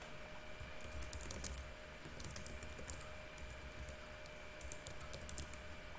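Keys tapped on a computer keyboard while entering text into a form in an article review application, quiet irregular clicks in short bursts, with no talking.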